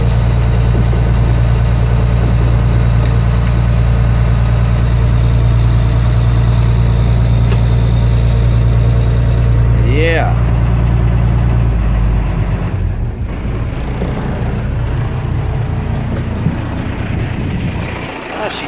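A school bus engine idles with a heavy, steady low rumble up close, then the drone drops away partway through, leaving quieter mechanical sounds; a voice speaks briefly.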